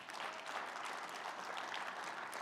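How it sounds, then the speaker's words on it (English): Conference audience applause in Philadelphia: a steady, even hiss of many hands clapping at once, somewhat distant and soft, held for the whole stretch. "eon and his team from Full Circle Production deserves a round of applause"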